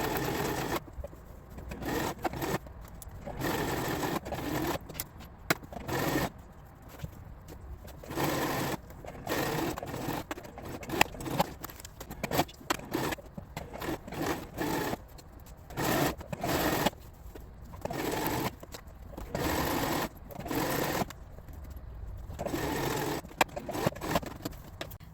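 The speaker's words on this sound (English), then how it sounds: "Now I'm gonna line it up and probably just film myself sewing." A sewing machine stitches a fabric liner for a crochet bag, running in short repeated bursts with brief pauses between them, fairly close and steady, with no talking.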